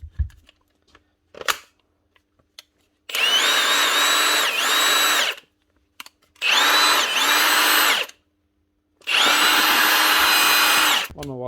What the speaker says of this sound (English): One Milwaukee Nut Gun.